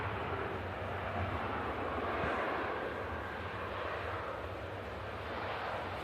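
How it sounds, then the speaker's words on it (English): An EasyJet Airbus A320neo rolling out just after a smooth touchdown, its engines giving a steady, broad roar at moderate distance that holds level throughout, with no voices. "What a smooth touchdown that was from the EasyJet."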